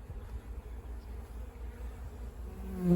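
A swarm of bees buzzes in a tree, a low, steady droning hum close by, with one louder buzz passing near at the end.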